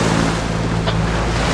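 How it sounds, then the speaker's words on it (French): Constant rushing wash of small waves and sea spray on a boat deck, loud and close, with wind buffeting throughout. "de petites vagues, des petits embruns sur le pont"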